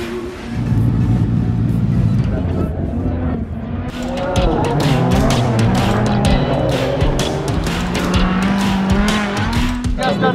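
Race cars thunder past at close range on race day at the Montalegre track, engines roaring and revving hard with tire squeal, a loud continuous wash of motor noise throughout.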